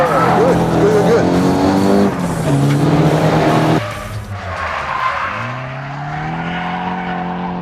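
A loud engine revs high while tires squeal in long sliding wails, the pitch dropping and rising as the car clutch-kicks into a drift through a big round corner.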